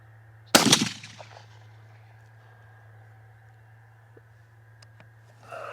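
A single loud rifle shot fired while zeroing a scope at 100 yards, a sharp close crack with a short decaying tail, followed by a low steady hum and quiet handling noises.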